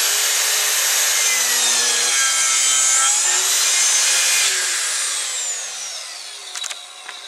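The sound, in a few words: hand saw cutting wood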